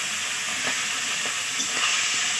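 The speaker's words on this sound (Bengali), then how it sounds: "তো তেলটিকে গরম করে ঠাকুমা মাছ ছেড়ে দিচ্ছে।" Fish coated in turmeric and salt frying in hot oil, a continuous soft sizzle and hiss with faint pops and scrapes, close by and without talk.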